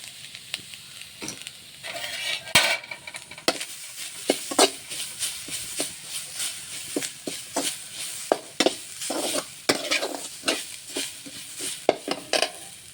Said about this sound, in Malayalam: ചീനച്ചട്ടി ചൂടായി ഞാനിതിലോട്ട് തേങ്ങ ഇട്ട് വറുത്തെടുക്കാൻ പോവുകയാണ്